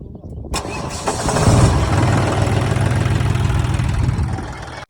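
A tractor engine in a farm field where fertilizer is being spread before the kharif season catches at the start, then runs loud and close with a steady low rumble for the rest of the clip.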